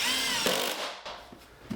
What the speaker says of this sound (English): I'm using some 2-inch Torx head screws to get this up here